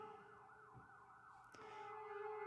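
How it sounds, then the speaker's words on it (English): Emergency sirens wail outside, faint and distant, with a rising and falling tone that sweeps repeatedly before settling into a steadier pitch as the sound grows slightly louder. "the sirens are going off on my end"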